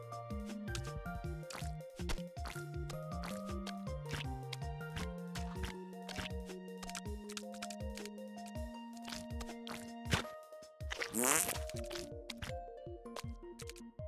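Squishy, wet, fart-like noises from the video game Super Meat Boy come in quick, rhythmic bursts with a brief louder splat near the end, alone with no talking.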